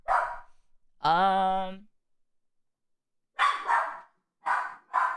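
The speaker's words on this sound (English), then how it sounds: "I'll mute whilst my dog's upset." A small sausage dog barks indoors: a few loud, sharp yips and a longer whining bark, spaced with short silences between bursts.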